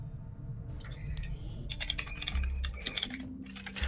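Rapid typing on a computer keyboard in the strategy game Long War 2, clustered clicky keystrokes in quick bursts over a quiet low hum, with no talking.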